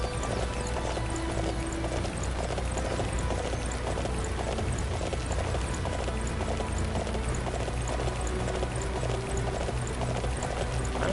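Steady galloping hoofbeats of a horse ridden into a town in Dynasty Warriors 9, a continuous rhythmic clatter mixed with dense game ambience and mechanical noise throughout.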